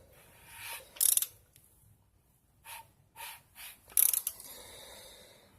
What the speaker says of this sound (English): I'm going to go ahead and crank it over just to see.